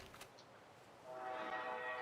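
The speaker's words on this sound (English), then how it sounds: "apologies if you can hear a super loud train in the background" A loud train passes outdoors in the background, its rumble and screeching rising to a steady roar across the second half with tonal squeal, muffled and distant-sounding.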